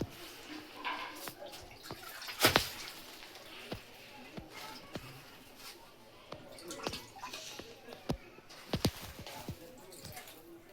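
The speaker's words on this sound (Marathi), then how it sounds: "मित्रांनो धुवून घेतोय" River fish being washed with water, splashing and dripping with irregular wet slaps and trickles, close by, with a few sharper knocks mixed in.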